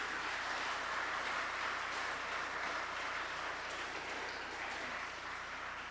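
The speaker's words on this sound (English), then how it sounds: "let's give Dan Ireland, our camp director, a round of applause for all the hard work that he puts in" An audience at the closing session of a running camp gives a sustained round of applause, a dense wash of clapping that holds steady throughout with no speech over it.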